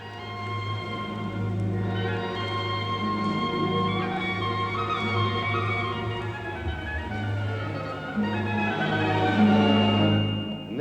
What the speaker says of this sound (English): a wavy wisp of a tune in an old church mode that goes like this.